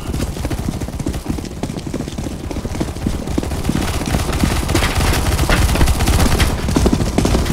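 Rapid bursts of automatic gunfire in the CS:GO Zombie Escape map ze_best_korea_v1 keep up a dense, steady rattle through the whole stretch, with no voices over it.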